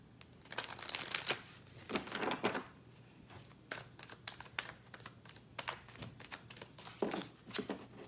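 Tarot cards are shuffled and pulled by hand, giving repeated close riffling bursts and soft flicks of card stock in an irregular rhythm with no talking.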